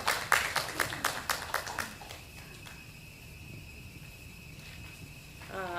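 Congregation at a Sunday Mass applauding the Sunday school principal, a brief round of rhythmic clapping that fades out after about two seconds into quiet room tone before a voice begins speaking.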